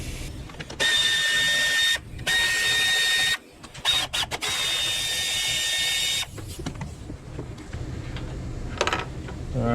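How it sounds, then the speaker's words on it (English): Battery box bolts on a Ford Escape being removed with a 10 mm socket, heard as loud, close whirring bursts from a power tool with short pauses between runs, followed by quieter handling clinks. "use a 10 to take out all 3 of these battery bolts"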